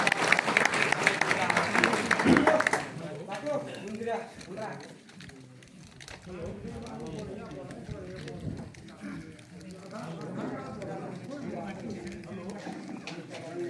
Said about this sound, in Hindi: उनका बात के भी रोज हम ध्यान पूर्वक सुने और जोरदार ताली से उनके स्वागत करो